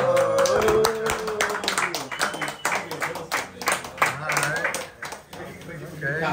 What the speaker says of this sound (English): Me and Rob didn't clap, so take it personal.